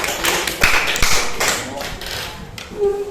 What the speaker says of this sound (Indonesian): Tepuk tangan dulu untuk kelompok tiga